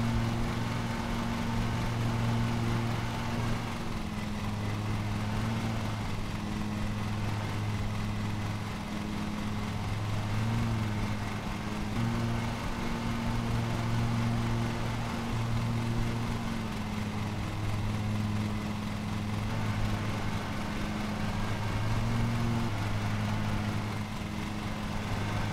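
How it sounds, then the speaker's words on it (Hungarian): A lawn mower engine in Lawn Mowing Simulator runs steadily at full throttle, a continuous loud, droning hum with a low tonal whine that holds for the whole stretch without pause, no voices over it. "Gyakorlatilag fűnyíró szimulátorozunk."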